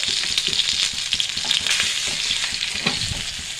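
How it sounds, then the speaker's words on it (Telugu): Fish fries in hot oil for a masala curry, producing a steady, close sizzling hiss with crackles and small spatters throughout and no talking. "ఫ్రై చేస్తాను చాలు."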